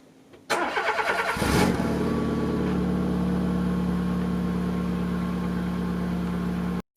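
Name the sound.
cold start of small car engine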